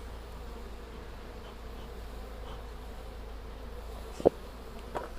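Honey bee colony buzzing steadily inside a hive, a continuous close drone with one sharp knock near the end.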